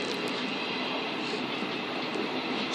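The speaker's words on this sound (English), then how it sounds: "And now also departing is 445-809 service." Class 445 electric multiple unit departing East Croydon station on the Brighton Main Line, a steady rumbling roll of wheels and motors close by, with a sharp brief noise at the very end.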